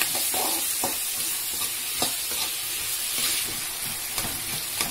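Salted tomatoes fry in a pan for garlic-onion kulambu, a steady hissing sizzle broken by soft scrapes of stirring.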